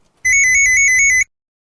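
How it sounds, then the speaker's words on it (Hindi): A mobile phone rings with a bright, repeating electronic tone of about eight quick pulses over one second, loud and close, then stops abruptly, with no voices over it. "मेरा फोन बज रहा है"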